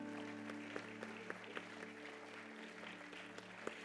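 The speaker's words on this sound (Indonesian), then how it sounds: "tepuk tangan yang luar biasa buat mereka." A church congregation applauding, a faint steady patter of clapping heard at a distance beneath sustained tonal hum, with a few sharper claps standing out.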